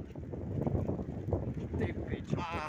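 Gusty wind buffets the microphone in uneven low rumbles at a town square event in Broumov, with a voice speaking briefly in Czech amid the noise.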